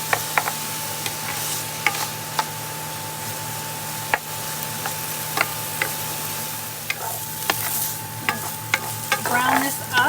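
Food in sauce fries and browns in a pan with a steady low sizzle, broken by scattered sharp clicks and taps of stirring near the end.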